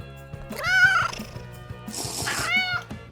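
A cat meows twice with drawn-out, wavering calls near the mic, close and fairly loud, during a home cooking session of seafood, with a low rhythmic thumping beneath.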